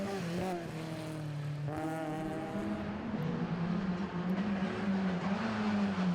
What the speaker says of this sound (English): Gary really hustling his Ford Escort through the chicanes around the Cadwell Park stages